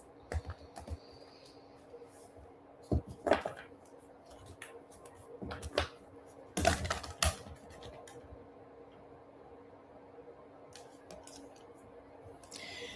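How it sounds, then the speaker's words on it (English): A deck of tarot cards shuffled in the hands, heard as a few soft, brief riffling bursts with quiet gaps in between and no talking. "I am just shuffling until they ask me to stop."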